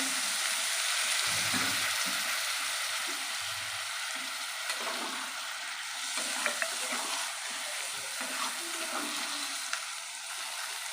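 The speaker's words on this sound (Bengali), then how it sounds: "ভালোভাবে কিন্তু মশলাটা দিয়ে আলুটা কষানো হয়ে গেছে" Potatoes sauté in oil with turmeric, chili powder, salt and a splash of water, making a steady moderate sizzle with a few soft stirring knocks and scrapes, and no speech.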